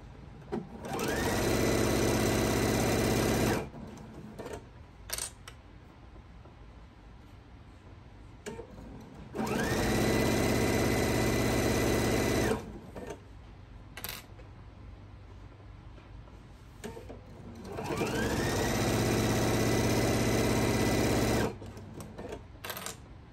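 A sewing machine stitches a quarter-inch seam on a thread catcher wall pocket in three long, steady whirring runs. Brief pauses between runs carry small handling clicks.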